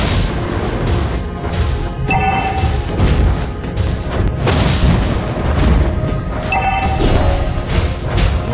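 Valir's burning blast attacks in Mobile Legends gameplay land as a dense run of booming impacts and crashing bursts, loud and continuous over game effects and chiming tones.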